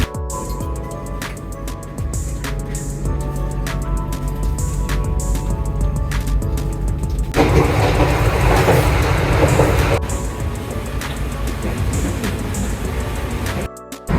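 Steady rumble of a passenger train travelling to Yogyakarta, with rhythmic clicks of wheels over rail joints and a louder rushing stretch midway, heard from inside the carriage.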